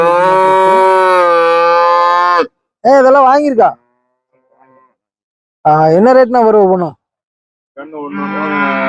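Loud, close moos from cattle and calves at the Puliyampatti cattle market, with several long drawn-out calls separated by silences and someone talking in between.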